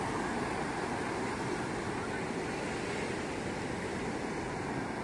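Big sea waves break on a beach in Goa, a loud, continuous roar of surf and wind rushing across the microphone with no breaks, filling the whole stretch.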